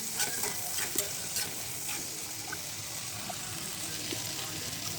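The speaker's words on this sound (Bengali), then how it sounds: "দেখেন চিংড়ি মাছগুলো ভালো করে ভেজে নিচ্ছি উল্টে পাল্টে" Shrimp fry in oil in a pan, giving a steady close sizzle with occasional scraping clinks of a spatula as they are turned over.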